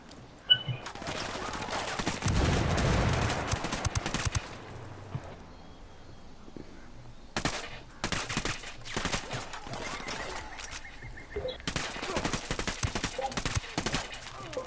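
Gunfire in a Star Wars video game on PS4, bursts of rapid blaster and automatic fire in several loud volleys separated by quieter gaps, with brief game sound effects between them.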